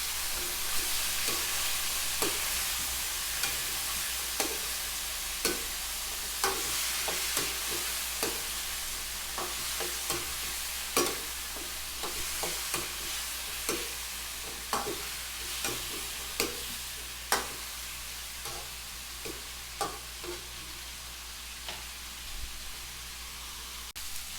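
Chicken feet simmering in a sour tamarind broth being stirred in a pan, a soft continuous sizzle under a steady hiss with regular light scraping strokes of a spoon throughout, no talking.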